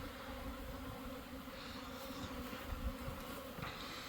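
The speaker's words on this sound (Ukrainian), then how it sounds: "Бджоли роблять обльот" Dense, continuous buzzing of many honeybees in flight during a cleansing flight, steady and enveloping, with no voices.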